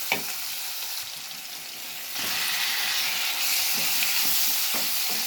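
Chicken pieces dropped into a hot pan with ginger garlic paste and turmeric, frying with a loud steady sizzle that swells partway through, with faint stirring clinks, no voices.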